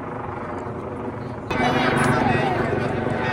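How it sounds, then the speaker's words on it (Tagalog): A helicopter passes overhead outdoors near a deer area, its broadband rotor roar rising sharply about halfway through and staying loud and close, with people talking underneath. "Helicopter."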